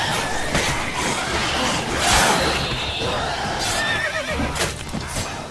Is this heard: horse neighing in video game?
yes